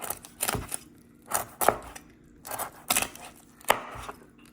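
A knife slices and chops roast pork on a cutting board, giving about ten distinct, irregularly spaced chops close up, alone with no talk.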